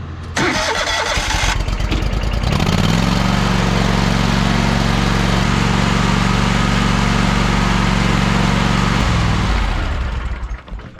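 A Toro Multiforce compact machine's engine cranks with a rattly start, catches, and runs at a loud, steady mid-pitched drone on a long driveway before cutting off near the end.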